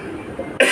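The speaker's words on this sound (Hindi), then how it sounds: "पता नहीं खांसी हो गया।" A single person's cough, sharp and close, bursting out at the end after a moment of quiet room tone.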